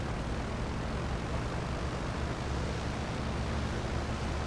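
A light aircraft in the FiveM flight simulator on final approach to runway 18, its engine a constant broadband roar holding steady throughout with no talk over it.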